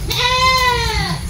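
A goat lets out a single loud, wavering bleat close by, lasting about a second.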